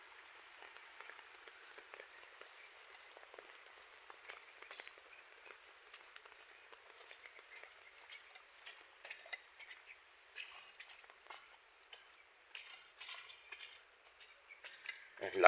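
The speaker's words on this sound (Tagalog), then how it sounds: "Laganap ang ulan nito mga kabrad." Heavy rain falls at a small farm, a faint, crackling patter on surfaces that varies in intensity, growing denser toward the end.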